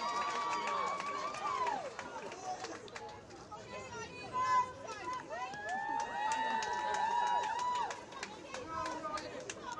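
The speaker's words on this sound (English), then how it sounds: "Chester crowd making some noise up in the little bleachers by our side." Spectators cheer and call out from small bleachers beside a men's varsity field hockey match, a lively crowd roar with shouts rising over steady hubbub, heard at a distance under ongoing commentary.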